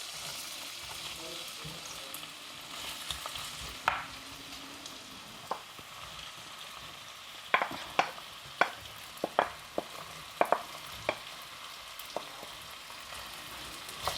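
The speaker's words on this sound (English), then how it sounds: "So now we can put in the potato. This is sliced potato with carrot." Sliced potato and carrot frying in hot oil for a meat pie filling: a steady soft sizzle with scattered sharp clicks of a utensil stirring, close but low in level, with no talking.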